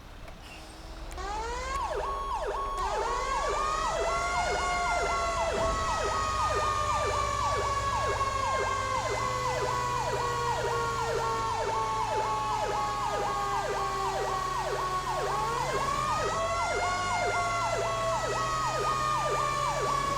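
A fire engine siren in the FiveM video game wails continuously on a code 3 response to a structure fire at a garage on US Route 1, rising and falling in a steady repeating cycle with a truck engine rumbling underneath.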